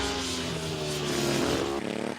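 A race motorcycle built for high-tech road racing, nearly all engine, accelerates with a loud, steady, buzzing engine drone that climbs slightly before easing off.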